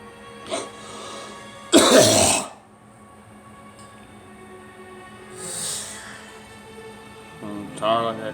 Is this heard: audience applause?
no